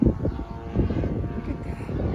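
A remote control airplane doing aerobatic tricks overhead gives a steady, moderately loud engine drone with rising and falling swells as it passes, carried on light wind with no talk.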